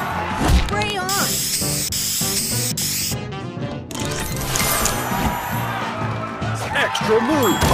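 A spray booster effect from the Match Masters puzzle game, with a loud hissing spray burst among busy game music and chiming effects, while a game voice announces moves.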